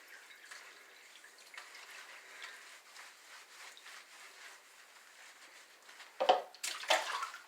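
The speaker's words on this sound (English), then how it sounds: "I always come back and put a little water on it." Water poured and splashed over a Labradoodle during a bath, a soft running wash under a low steady background that swells into two louder, closer splashing bursts near the end, with no voices.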